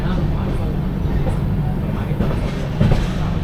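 Aboard the Podhigai SF Express passenger train on its Tenkasi to Chennai run, a dense low rumble of wheels on rails rolls on continuously, with a voice talking over it.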